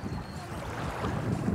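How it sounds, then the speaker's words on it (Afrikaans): Cold wind blows across open water during a fishing outing, a steady, loud rumble buffeting the microphone throughout, with no voices. "maar hierdie wind is koud"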